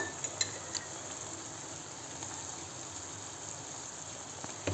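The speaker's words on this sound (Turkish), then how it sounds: "Kıymamız kavrulurken içerisine 2 yemek kaşığı domates rendemizi" Minced meat with grated tomato frying in a pan for lasagna, a soft, steady sizzling hiss throughout with a few faint utensil taps.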